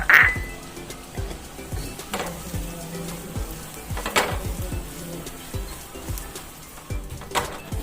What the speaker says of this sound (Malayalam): ഇനി നമ്മൾ പൊടിച്ചു വെച്ചിരിക്കുന്ന ആ ഒരു നട്ട്സിന്റെ മിക്സ് നമുക്ക് ഇതിലേക്ക് ഇട്ട് കൊടുക്കാം ഇത് നന്നായിട്ട് മിക്സ് ചെയ്ത് കൊടുക്കാം